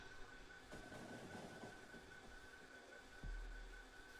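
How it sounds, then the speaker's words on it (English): A freight train in the factory-building game Factorio rolls in to unload, a steady faint rumble of wheels and carriages with a short squeal and a low thump near the end, no talking. "Alright, we got another train coming up here to unload."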